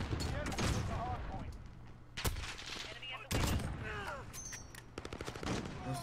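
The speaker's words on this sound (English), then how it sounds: "Where's the fucker that shot at me?" Gunfire in a video game, rapid bursts and volleys of shots with a couple of sharper, louder cracks standing out, fairly close and continuous across the stretch.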